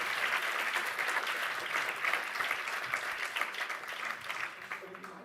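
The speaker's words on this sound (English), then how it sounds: "A warm applause for them." Audience applause for the panelists of an evening panel discussion, a dense, steady wash of clapping that fills the whole stretch and tapers slightly at the end.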